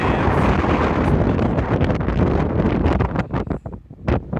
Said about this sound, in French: il y a vraiment beaucoup de vent, mais c'est bien dégagé